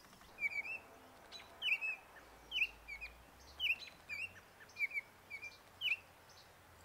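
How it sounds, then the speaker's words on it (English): A Baltimore oriole sings a series of short, clear whistled notes in loose repeated phrases, moderately close against a quiet outdoor orchard background. "I can't help but listen to the Baltimore oriole."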